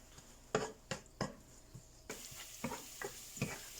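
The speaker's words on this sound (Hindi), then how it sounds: "ये अब इसमें लहसुन डाल देते हैं कटा हुआ और थोड़ा सा सौटे करते हैं" Chopped garlic sautéed in oil in a pan for a desi chicken Manchurian, with a soft steady sizzle under a series of sharp stirring scrapes and knocks, close by.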